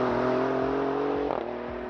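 An Alfa Romeo Quadrifoglio engine hums and revs at a steady pitch, close and loud, with a brief rise in tone partway through.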